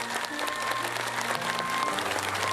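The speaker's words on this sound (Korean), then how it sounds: "여러분들 큰 박수 부탁드리겠습니다" Audience applause at a Korean literary award ceremony during a prize presentation, continuous clapping from a seated crowd at a steady level with a faint sustained tone beneath it.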